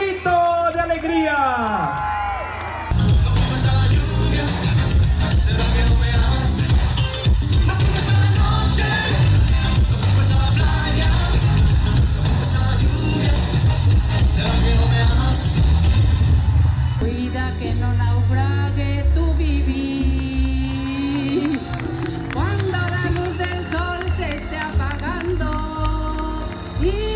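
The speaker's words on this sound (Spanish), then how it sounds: "Fuerte el aplauso, por favor." A large crowd at a Christmas tree-lighting event in Pedro Escobedo claps and cheers loudly and steadily, with music and an amplified voice over the noise, then the applause falls away into the music.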